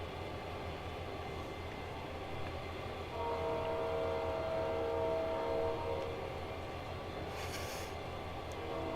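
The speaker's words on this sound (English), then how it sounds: "I love the train sound in here" A train on a FlatOut 4 video game map rolls with a steady rumble. A sustained horn-like tone swells from about 3 to 6 seconds over the rolling noise, then fades, and no one talks.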